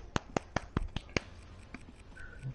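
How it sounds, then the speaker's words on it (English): A series of six sharp hand claps comes in quick, even succession, close and crisp, then trails off into faint background noise during a casual gaming session. "Nice clap of the hands"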